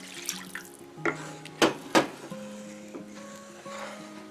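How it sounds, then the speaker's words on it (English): Water poured into a pan of mushroom gravy in a home kitchen, a few soft splashes and trickles with light clinks against cookware, fairly quiet and close. "Let me go ahead and add all of this water."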